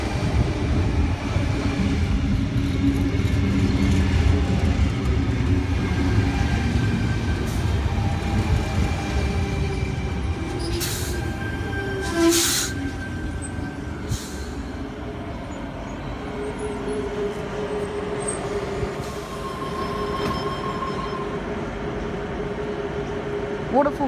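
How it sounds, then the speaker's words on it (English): A Sydney Tangara electric train pulls into a station platform, a steady broadband rumble of wheels and motors running throughout with brief high squeals and hisses midway, while station announcements and talk carry over the top. "We have a Tangara arriving onto platform 4."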